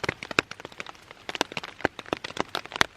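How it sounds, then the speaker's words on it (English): Scattered raindrops tap and patter irregularly on a nearby surface at a woodland camp, sharp little ticks over a quiet background. "it's still raining"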